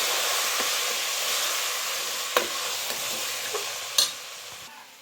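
A spoon stirs chili powder and sambar powder through avarekai saaru in a pan, a steady close sizzle with a few sharp scrapes and clinks against the vessel, no talking.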